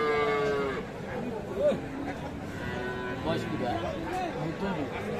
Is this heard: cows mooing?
yes